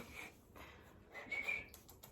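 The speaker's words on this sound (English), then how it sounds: "Good to know that you respond to whistles better." A person whistles a few short, faint tones to call a pet, with two brief bursts separated by a pause, quiet and thin against a soft room background.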